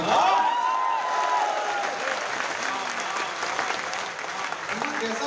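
Audience at a poetry festival breaks into sustained, dense applause, loud and steady throughout with a few cheers mixed into the clapping.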